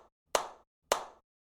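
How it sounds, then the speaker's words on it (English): Two crisp hand claps on quarter-note beats, evenly spaced about half a second apart, each ringing briefly before a clean silence that marks the rest, close and alone. "The only claps that took place occurred where the quarter notes were."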